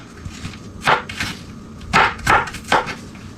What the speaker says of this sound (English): So I'm chopping up this onion.